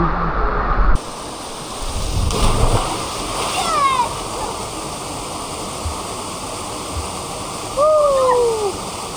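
Reach Falls in Jamaica sends a constant, loud roar of rushing water that fills the whole stretch, with no talking.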